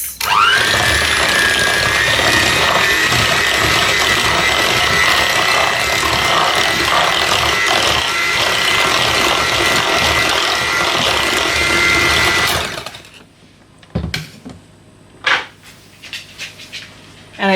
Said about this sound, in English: So I'm just going to whisk in the eggs.